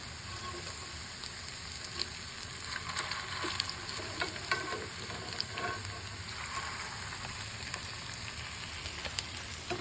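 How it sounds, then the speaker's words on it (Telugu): Chicken keema sticks frying on a low flame, a steady close sizzle with crackling pops running continuously throughout, with no voices. "ఎర్రగా వేగటానికి సిమ్లో వేయించుకుందాం"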